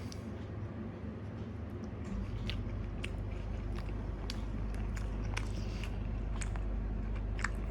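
Biting and chewing of a home-delivered vegetarian paneer meal in a garlicky gravy, heard as close, repeated crisp mouth clicks and crunches over a steady low background hum, with no talking.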